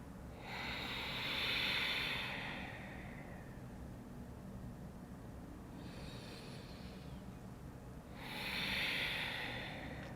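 Slow, deep breaths during a seated yoga recovery pose: two long, close, airy exhales, one at the start and one near the end, separated by quieter breathing, with no talking.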